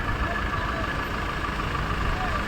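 A tour bus used for travel around Bhadrachalam and Parnasala idles with a steady, close, unbroken engine rumble and hiss, faint murmuring voices mixed underneath.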